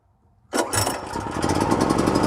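A portable generator's engine catches after a quiet moment and roars straight into a loud, steady, close run with a buzzy rattle, and the noise builds slightly as it settles.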